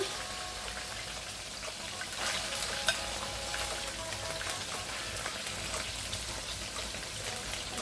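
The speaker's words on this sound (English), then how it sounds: "I'm going to go in with half of my onions and my peppers" Onions and peppers fry in a pan for a Brazilian moqueca baiana, giving a constant rain-like sizzle at moderate level with a faint stirring scrape, and no talk over it.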